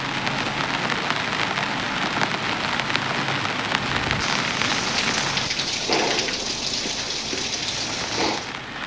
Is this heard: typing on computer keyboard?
no